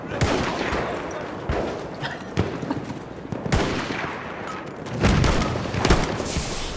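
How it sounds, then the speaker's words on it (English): Gunfire in the World War I shooter game Battlefield 1 comes as repeated sharp shots and booms, some near and some distant, over a constant battle rumble, with players talking now and then. "Is that hostile fire?"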